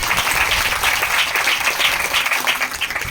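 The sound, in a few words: congregation clapping loudly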